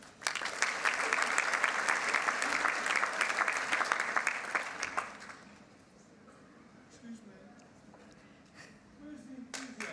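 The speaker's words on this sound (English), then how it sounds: "None of this polite clapping" Audience at a Victoria University graduation ceremony breaking into loud, dense applause for about five seconds, then fading to a quiet hall where a voice speaks over scattered low noise.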